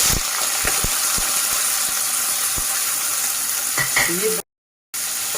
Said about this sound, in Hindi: ये 2 लार्ज साइज के ऑनियन लिए थे, उसको मैंने चॉप करके अब फ्राई करने के लिए डाल दिया है।